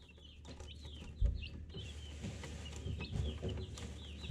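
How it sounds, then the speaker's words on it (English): Chickens cluck softly in a garden coop, several birds making repeated low clucks and higher chirpy calls close by over a steady low background hum. "We managed to procure a dozen chicks this spring"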